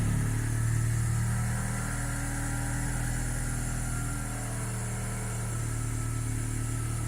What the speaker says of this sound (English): The idle is kind of hunting.